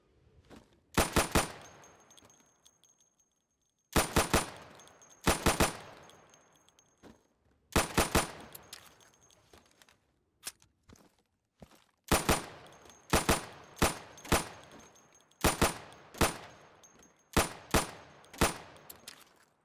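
Rapid bursts of gunfire at pop-up targets in the shooter game Insurgency, with sidearm shots fired in quick clusters of sharp cracks separated by short pauses, loud and close, no talk.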